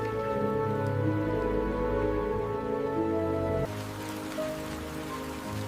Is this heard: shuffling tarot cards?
no